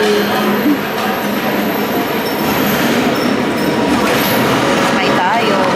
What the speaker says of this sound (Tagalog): Ayan na yung train. Yeah, train.